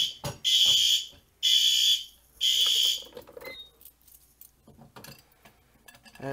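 Fire alarm horns sound in three loud, even bursts with short gaps after a Silent Knight SD500 pull station is pulled, then cut off, leaving only faint clicks and handling noise.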